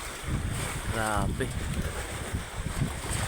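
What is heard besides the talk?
strong wind and waves at sea on a boat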